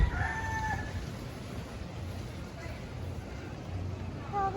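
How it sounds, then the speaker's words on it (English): A rooster crows outdoors among street art in Puerto Rico, a couple of drawn-out calls at the start and again near the end over soft ambient noise. "Oh, the chickens."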